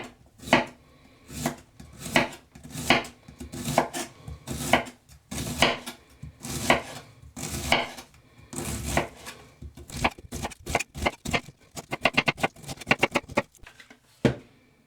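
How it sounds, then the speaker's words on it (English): A knife slices a quarter of red cabbage on a board in crisp, rhythmic cuts that start steady and speed up into a rapid run of close, crunchy chops, with no voices. "finely or fairly finely slice the cabbage. I'm doing 1/4 with a knife"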